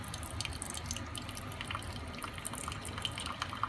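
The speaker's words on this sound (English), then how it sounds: "I'm going to hit brew." Coffee drips and trickles from a faulty Cuisinart coffee machine while it brews, faint irregular drops and splashes over a low background hum.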